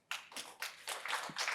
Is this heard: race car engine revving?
no